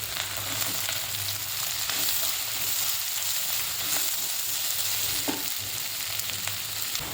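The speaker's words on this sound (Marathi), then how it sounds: "इथे कांदा भाजत असताना" Chopped onion fries in hot oil with curry leaves, green chilli and ginger for rava upma, a steady close sizzle that holds for several seconds with no voices over it.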